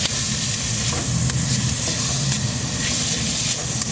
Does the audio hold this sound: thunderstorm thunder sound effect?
no